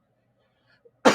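A single loud, close cough bursts out after near silence during a fishing tackle box unboxing, with a faint rustle just before it.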